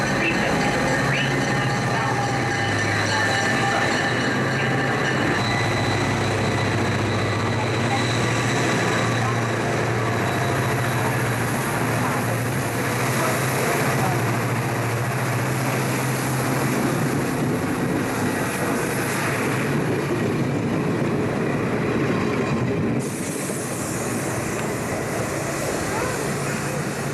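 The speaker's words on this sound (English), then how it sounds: "Attention, please, now arriving Amtrak train is 353." Amtrak train 353 pulls into Detroit's Michigan Central Station in January 1988: a steady low engine rumble under broad station noise, with voices in the background throughout.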